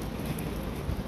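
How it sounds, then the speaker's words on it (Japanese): Steady rain falls on a wet street near Korakuen Station, a dense, even hiss with no speech, lasting about a second. "今日雨なんでね"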